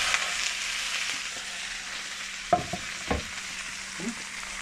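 A cabbage pancake fries in a covered pan, giving a steady broadband sizzle throughout with a few soft knocks and scrapes near the end.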